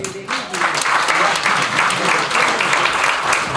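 Audience applause at a screening in a tea bar fills the space, dense and steady from start to finish, with a voice briefly heard at the very start.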